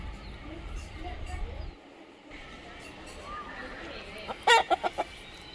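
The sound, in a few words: chickens clucking on a farm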